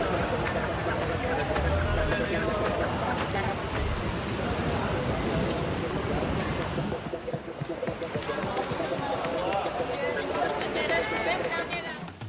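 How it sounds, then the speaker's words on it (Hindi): Heavy rain pours steadily at Abu Road railway station at night during a thunderstorm, a dense continuous hiss of drops lasting the whole stretch with faint crowd murmur underneath. "हम बारिश और बिजली लेकर आए अपने साथ आबू रोड स्टेशन पे"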